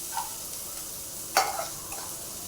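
Potato bhaji is sautéed in oil, giving a soft, steady sizzle with a single sharper clack of a spoon against the pan midway, close and without voices.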